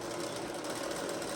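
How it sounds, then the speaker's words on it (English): A sewing machine bastes an apron strap in place, a steady close mechanical whir with a fast even rattle, running without pause for the whole short moment and without talk. "basting is just sewing it on there"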